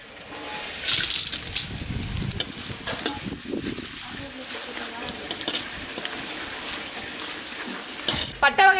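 Whole spices such as cinnamon sputter and sizzle in hot oil as the tempering for vegetable dalcha is made, with steady frying hiss, a few stirring scrapes and sharper crackles near the end; a voice talks over it.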